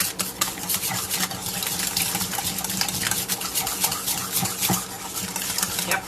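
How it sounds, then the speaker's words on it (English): A whisk beats spinach artichoke filling for stuffed pasta shells in a bowl, making steady, close scraping and light clinking against the sides with no pauses and no voices. "I'm wondering if this would stir better with a whisk"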